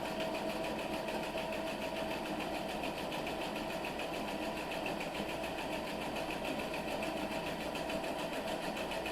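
A sewing machine stitches a quilt block for a pinwheel quilt, following a drawn line in one steady, continuous run of fast mechanical whirring that holds at an even level throughout.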